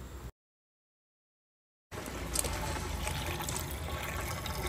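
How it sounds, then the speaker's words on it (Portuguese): Water from a hose filling a motorhome's tank, a steady close trickle and gurgle after a brief gap of silence. "Tá enchendo água..."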